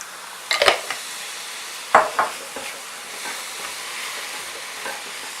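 A carrot and pepper stir fry frying in a pan, a soft steady sizzle broken by a few close scrapes and clanks of the utensil against the pan.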